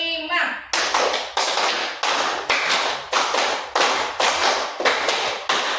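A class of students claps in unison during a counting concentration game, with about eight loud, evenly spaced group claps in a quick steady rhythm and a brief voice just before the first.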